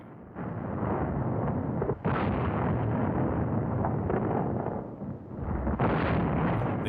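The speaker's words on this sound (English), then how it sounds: "The enemy replies with large caliber guns." Large caliber artillery guns fire at the front, heavy booming blasts rolling into one another as continuous loud rumbling, with renewed surges near the start, middle and end.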